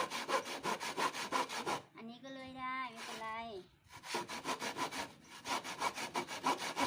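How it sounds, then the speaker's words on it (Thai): A hand saw rasps through wood in quick, rhythmic back-and-forth strokes, pausing midway while a voice speaks, then sawing resumes steadily. "ทำไมไม่เอาเลื่อยอันใหญ่มาเลื่อย"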